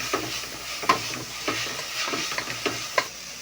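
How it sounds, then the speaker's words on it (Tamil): Ginger garlic paste stirred and fried in a pan for chicken biryani: a steady sizzle with rhythmic scraping strokes of the spoon, several sharper clicks standing out, close and continuous. "தேவையான அளவுக்கு இஞ்சி பூண்டு பேஸ்ட் போட்டுக்கலாம் பூண்டோட பச்சை வாசனை போகிறது வரைக்கும் கிண்டி கிண்டிக்கணும்"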